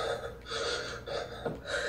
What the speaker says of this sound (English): Why are you still panting?